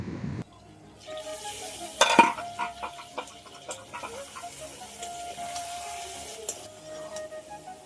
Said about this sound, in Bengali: চুলার আঁচটা একটু কমিয়ে আমি এভাবে বারবার নাড়াচাড়া করে